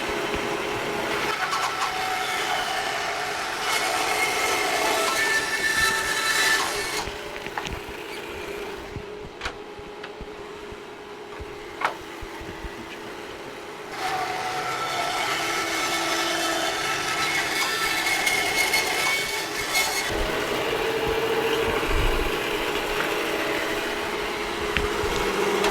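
A Grizzly bandsaw fitted with a fresh blade cross-cuts a piece of wood, its steady motor hum broken by a quieter pause mid-way before the cut resumes at a similar even level.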